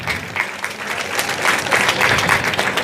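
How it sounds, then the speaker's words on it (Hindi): Applause welcomes a gold medal winner at a village gathering in Mochiwali, Sirsa: a dense, continuous crowd clapping that swells slightly and stays loud throughout, with no voices above it. "जरा जोरदार तालियों से इस बेटी का स्वागत"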